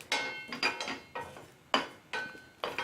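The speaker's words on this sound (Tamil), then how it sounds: "சீரகம் நல்லா வறுபட்டு வாசம் வரும், அது வரைக்கும் நம்ம இந்த மாதிரி வதக்கி விட்டுக்கலாம்" Cumin seeds dry-roasting in a pan for mustard and sesame seed podi, stirred with a utensil: a close series of about six rough scraping strokes in an uneven rhythm, with no voices.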